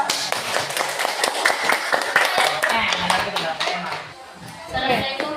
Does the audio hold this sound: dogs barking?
no